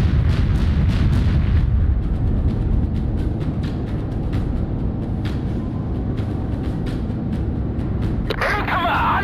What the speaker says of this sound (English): Starboard gun to fire.